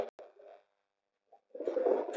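Faint, soft cooing from kept flying pigeons comes in short low murmurs separated by a near-silent gap, with the last burst a little fuller.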